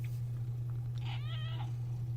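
A cat gives a single short, quiet meow partway through, over a steady low electrical hum.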